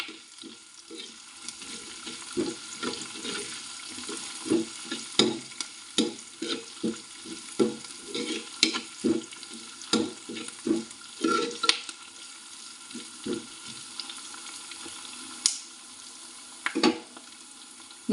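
Green chillies sizzling in a pan for Kerala-style moru curry made without coconut, with a soft continuous sizzle under repeated scraping stirs at an irregular rhythm, close and moderately quiet.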